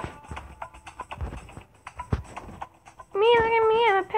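Scattered clicks and soft thuds, then a single clear, drawn-out cat meow near the end in the game Play with your Pet: Shiba Inu, with a bright, synthetic quality.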